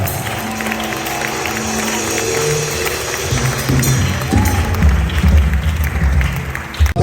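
A church congregation applauds and acclaims after a sermon's amen, a broad wash of clapping and crowd noise that swells louder toward the end, with faint voices underneath.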